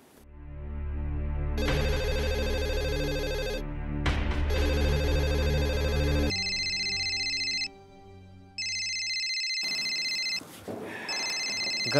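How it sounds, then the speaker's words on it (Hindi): A telephone rings in repeated electronic bursts, loud and close, with the tone pattern changing partway through; no one speaks over it. "घर से फोन आ रहा"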